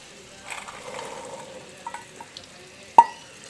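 Toor dal (pigeon peas) being stirred in a cooking pan gives soft, faint scraping and shuffling with a quiet sizzle, a few light knocks, and one sharp clank of the utensil against the pan near the end.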